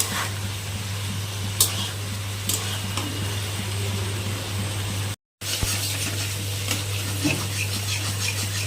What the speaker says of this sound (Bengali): মাঝে মাঝে এই তরকারিটা একটু নেড়ে দেবো, যেন নিচে লেগে না যায়।